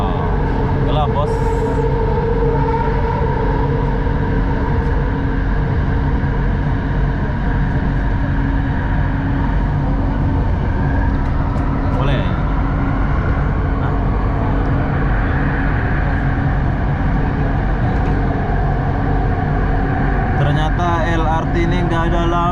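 A Kelana Jaya line LRT train runs from KL Sentral toward Masjid Jamek and enters an underground tunnel. A loud, constant low rumble and roar of wheels and motor fill the car without a break.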